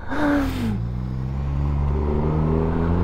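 An Aprilia SRGT200 scooter engine starts with a brief whirring crank, then settles into a steady idle with a rising rev, close and continuous.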